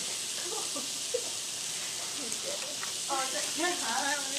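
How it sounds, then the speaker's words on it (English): Hydrate crystals heating on a hot plate: steady crackling sizzle with scattered pops and small bubbling bursts, growing slightly busier toward the end. "You should be able to hear them sizzling"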